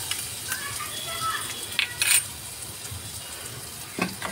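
Crushed fresh green chilies going into hot oil in a pan while cooking chicken cutlets: a soft steady sizzle with a few brief clinks of a spoon, while someone talks over it.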